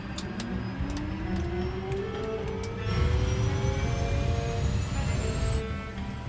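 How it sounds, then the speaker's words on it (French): Jet engines spool up on a hijacked airliner sitting on the runway at Marseille, a rising whine climbing steadily in pitch over a loud, steady roar, with faint ticking in the background. "L'appareil vient de démarrer ses moteurs."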